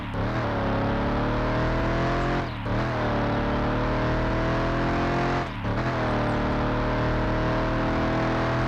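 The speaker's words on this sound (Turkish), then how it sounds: "Arabanın sesi de gayet güzel geliyor." A steady, droning Volkswagen Passat engine hums continuously with a couple of brief dips, a game vehicle cruising through a city at constant speed.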